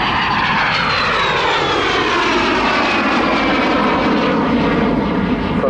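A de Havilland Vampire FB52 single-engine twin-boom jet flies past at an airshow, a loud, continuous roaring whine whose pitch slowly sweeps downward as the aircraft passes, with no voices.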